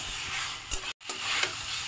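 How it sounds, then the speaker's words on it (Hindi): Pumpkin pieces stir-fried in a pan for a Bihari pumpkin curry give a steady close sizzle with scraping stir strokes, briefly cut by a short gap. "अब मैं इसमें इस कदीमा को डाल दे रही हूँ, इसे भी मैं अच्छी तरह से भूंज"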